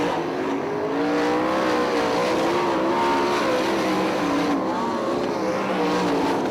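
Sprint cars racing on a dirt track at Crystal Motor Speedway, several engines roaring loudly at once with rising and falling revs as the pack rushes past in a continuous dense drone.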